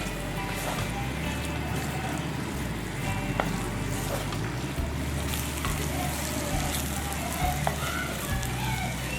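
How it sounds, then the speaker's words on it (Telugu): Prawns fry with ground pepper powder in a pan, a steady loud sizzle with crackling pops and faint stirring scrapes throughout, no voice heard. "ఇప్పుడు గ్రైండ్ చేసి పెట్టుకున్న పౌడర్ వేసుకొని ప్రాన్స్ అంతా కూడా ఫుల్ డ్రైగా అయ్యే వరకు ఫ్రై చేసుకోవాలి."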